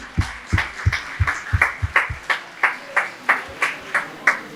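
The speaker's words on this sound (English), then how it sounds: "Please, a round of applause for them." A crowd at a 50-year school reunion claps for the organizing committee in a loose rhythmic pattern, sharp regular claps roughly twice a second that carry on steadily, close and fairly loud.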